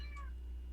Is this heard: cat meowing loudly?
yes